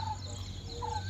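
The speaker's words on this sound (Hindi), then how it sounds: "पंछियों के कलरव को सुनने के लिए हम मौन हो जाते हैं।" Birds call outdoors in nature: a couple of short, clear, moderately faint calls over a low, steady background hum.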